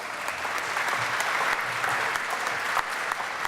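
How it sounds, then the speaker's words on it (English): Steady applause from an audience fills the space, dense clapping sustained throughout without a break. "Let's give them a round of applause."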